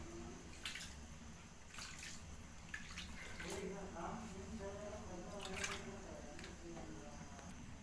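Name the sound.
water poured into egg potato curry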